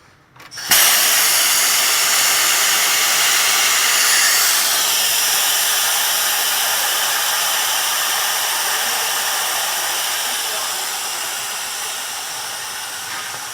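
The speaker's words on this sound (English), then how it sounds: "Now we're going to lower the vehicle back down." A vehicle lift lowering a car in a garage, heard as a loud, steady hiss that starts abruptly and continues unbroken, slowly easing in level over several seconds.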